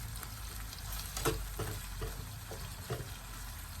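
Chopped fresh vegetables sauté in oil in a very small pot, giving a continuous close sizzle broken by several soft scraping stirs.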